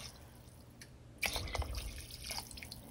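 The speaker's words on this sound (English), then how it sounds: "And next, we're going to be adding in 4 cups of water." Four cups of water poured into an Instant Pot for an olive lentil stew, a faint splashing pour starting partway through after near quiet, with soft dripping and sloshing at close range.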